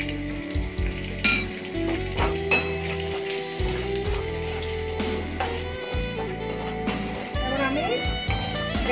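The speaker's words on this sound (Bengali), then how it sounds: "একসাথে সব ফোড়ন দিয়ে দিলাম।" Whole cinnamon, cumin, and white and black pepper crackle in hot oil as a continuous lively frying sizzle, partly covered by background music.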